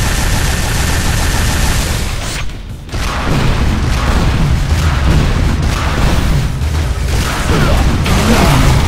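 Core-destroyed explosion from the video game Unreal Tournament 3: a dense, loud barrage of booming blasts and gunfire-like crackle runs almost continuously, dipping briefly before resuming at full intensity.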